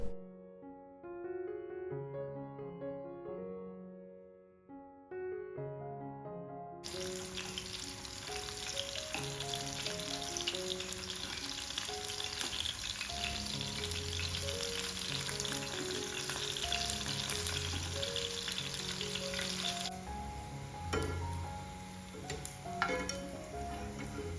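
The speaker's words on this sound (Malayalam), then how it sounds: "ഒരു മീഡിയം ടു ലോ ഫ്ലെയിമിൽ വെച്ചിട്ട് അങ്ങനെ ഫ്രൈ ആക്കി എടുത്താൽ മതി" Small chicken pieces fry over a medium-low flame in a steady, close bubbling sizzle, the first few seconds covered by gentle background music that lingers softly beneath.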